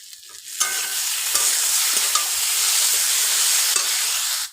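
Chili powder frying and being stirred in a hot wok, a steady loud sizzle with a few sharp scrapes of the spatula, close up and without speech.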